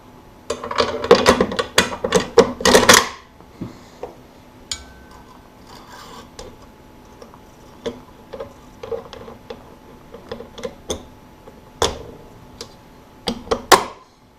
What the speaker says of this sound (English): We're going to go ahead and put the bolt assembly back in there with the spring.